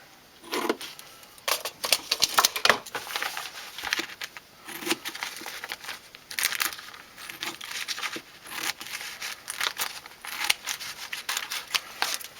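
Scissors repeatedly snip through a plastic tube cut to about 14 inches, close and sharp, with steady rhythmic crunching cuts and light crinkling, no talking.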